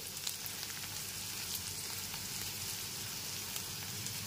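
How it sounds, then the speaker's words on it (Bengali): Chopped onion and garlic frying in a hot pan for a kochur loti curry, giving a steady close crackling sizzle with faint scraping from gentle stirring, no voices. "পেঁয়াজ রসুনটা একটুখানি হালকা করে নাড়াচাড়া করে নিচ্ছি।"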